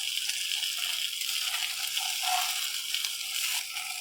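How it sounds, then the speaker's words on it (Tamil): Fish pieces frying in a shallow layer of oil in a pan, a steady close hiss of sizzling that swells briefly midway and carries on without any voices. "இப்போ மீன் எல்லா சைடும் நல்லா ஃப்ரை ஆயிடுச்சு."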